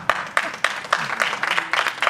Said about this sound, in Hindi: आपके लिए पक्की बात है कि तालियां बजाएंगे